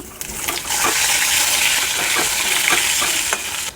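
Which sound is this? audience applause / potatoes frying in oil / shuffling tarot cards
potatoes frying in oil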